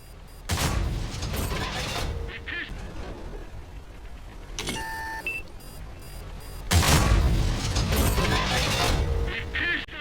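Tank cannon shots in the World of Tanks console game from a Centurion AVRE medium tank, two heavy booming blasts several seconds apart amid battle rumble, beeping interface tones and game noise.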